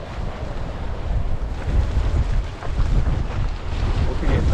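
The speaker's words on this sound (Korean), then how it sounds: "하필 리뷰를 하는 날 바람이 강풍이라니." Strong gusts of wind roar across a tent campsite at Serengeti, where tents are being pitched for review, battering the microphone with a loud, continuous, rumbling buffeting that swells and dips throughout.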